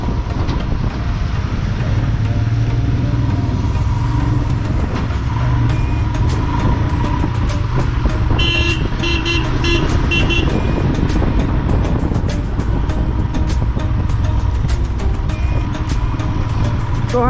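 Riders' vehicles roll past on a mountain road above the Teesta river, a steady close engine and road rumble with wind buffeting throughout and a voice speaking briefly.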